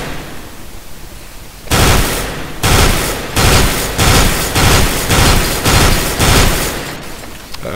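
Bursts of FAMAS rifle fire in a first-person shooter, loud and close, firing in a steady run of short, evenly spaced three-round bursts after a brief quiet start.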